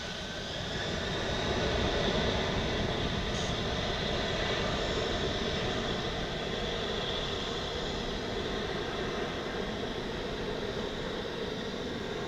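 An airliner takes off from runway 18 right at DFW International Airport, a steady, loud, broadband engine roar that holds throughout without fading, heard from nearby with no talking.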